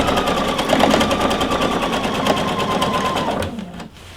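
A sewing machine runs steadily, stitching a drawstring waistband with backstitching, a rapid mechanical whir and needle rattle that carries on for about three and a half seconds and then stops.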